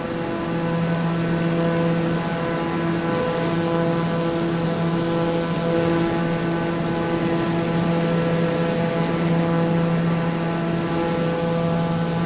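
Steady, droning aircraft engine in Microsoft Flight Simulator 2020, a continuous tonal hum with layered harmonics that holds at an even, loud level throughout with no talk.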